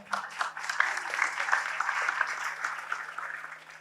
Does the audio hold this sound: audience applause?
yes